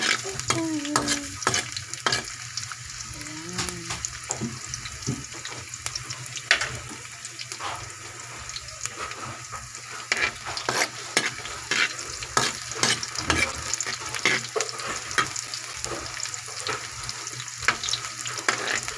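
Onions sautéing in a pan, with a continuous close sizzle and constant stirring scrapes and taps throughout. A brief murmur of voice is heard near the start.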